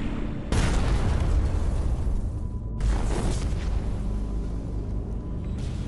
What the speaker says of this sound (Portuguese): eles ouvem uma explosão